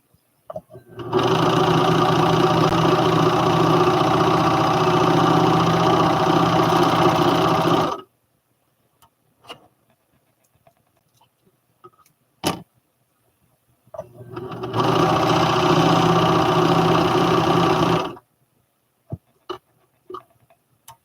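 A serger overlock sewing machine runs in two bursts of about seven and four seconds, a loud steady mechanical whir close by, with quiet clicks and brief handling noises in the pauses between.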